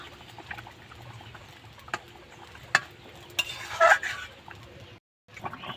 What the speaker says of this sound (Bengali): এবার মাছগুলো দিয়ে আমি আর একটু ফুটিয়ে নেব